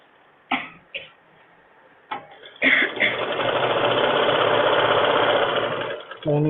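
A sewing machine stitches the lining onto a blouse, giving a few short bursts and then a steady, close mechanical whirr for several seconds before it stops. A voice speaks softly in the background.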